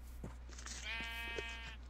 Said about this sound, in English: Got goats, we got sheep, we got a brown sheep.